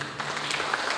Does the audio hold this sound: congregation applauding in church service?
yes